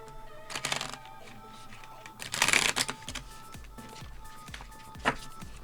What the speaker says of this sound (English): that was a real janky shuffle